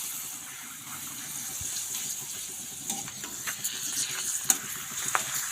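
Papad frying in a home kitchen, a faint crackling sizzle with scattered clinks and scrapes that grow busier toward the end, close and fairly quiet with no talk.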